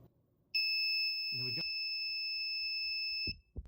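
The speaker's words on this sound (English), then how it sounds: "we should have an alarm go off" A single steady electronic tone from a temperature alarm on an ESP32 development board sounds for about three seconds and then stops, with a brief soft voice sound under it.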